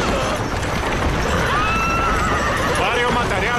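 Stagecoach horses in a Western film whinny loudly over running hooves and busy noise, with shouting voices mixed in.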